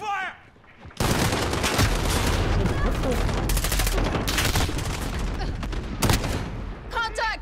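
Heavy gunfire in the Warzone video game erupts after a quiet moment: dense overlapping automatic bursts and booms, loud and sustained, with a voice heard briefly among the shots.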